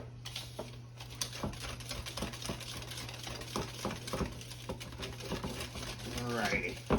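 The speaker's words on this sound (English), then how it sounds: "We'll just mix this by hand, y'all." Pineapple cake batter mixed by hand in a bowl: steady, irregular scraping and tapping of a utensil against the bowl at close range, with a constant low hum in the background.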